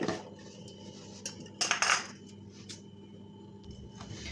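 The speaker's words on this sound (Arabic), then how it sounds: "غادي نبدا نخلط هاد المكونات هكذا بالفوي حتى يتخلطوا معايا مزيان" A whisk mixes ingredients, including butter, cinnamon and a pinch of salt, in a bowl for Moroccan chebakia, giving light metallic clinks and a brief burst of brisk scraping in the middle, otherwise quiet.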